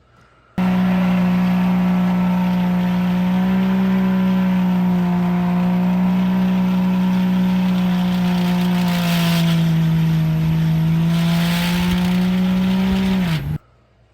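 A Cummins 6.7 diesel truck revs hard during a burnout, a loud, sustained engine roar that holds for several seconds, dips, then rises again before cutting off abruptly.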